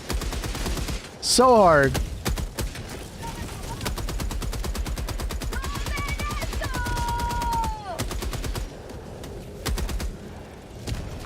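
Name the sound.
gunfire in video game Helldivers 2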